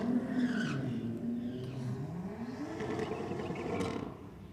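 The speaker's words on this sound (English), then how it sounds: "BMW down in the rocket lane, just sitting in the burnout next to the Falcon." A BMW sits in the burnout next to a Falcon at a Holden versus Ford drag race, its tires squealing and skidding in a loud, sustained wail as the engine note rises and falls.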